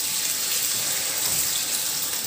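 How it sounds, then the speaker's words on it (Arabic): A kitchen tap running in a steady, close, full gush while someone washes their hands, with no break in the flow. "بس هروح اغسل ايدي"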